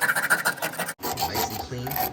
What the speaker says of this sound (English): I'll hit him with a little piece of sandpaper now.